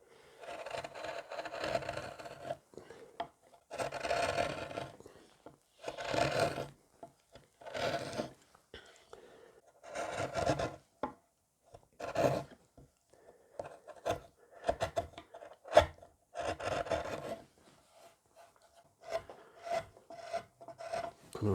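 A file works the radius of a wooden guitar neck in close, rasping strokes that come in separate bursts with brief gaps between them, and the output is moderate in level.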